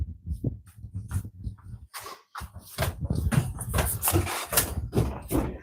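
A pet dog whimpers and whines at the door to be let inside, in irregular close bursts, with some knocks and scuffs among the cries.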